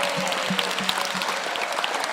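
A church congregation claps for Jesus during a Kikuyu Sunday service, a dense, steady wash of applause from many hands filling the room without a break.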